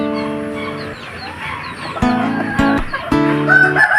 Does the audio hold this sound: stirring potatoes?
no